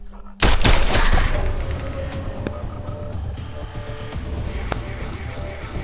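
A sudden loud gunfire volley in the post-apocalyptic game Wasteland 2, followed by a sustained noisy rumble with scattered sharp impacts.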